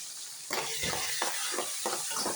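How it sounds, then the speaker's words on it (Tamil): Salt and turmeric being sautéed in a hot pan for sambar, with a steady sizzle and a run of rhythmic stirring scrapes, close and loud with no voices. "மஞ்சாத்தூள் போட்டுங்க. அப்புறம் நல்லா வதக்குங்க."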